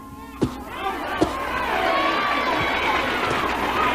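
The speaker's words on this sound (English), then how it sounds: "the rest of Jones's followers were going wild and were begging for blood" A frenzied crowd of cult followers shouts and roars, a dense wall of excited voices with a couple of sharp cries near the start, loud and sustained.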